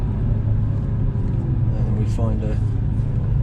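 A Porsche Boxster Anniversary Edition driving on the approach to the Nurburgring, steady engine and road rumble throughout, with someone talking briefly over it.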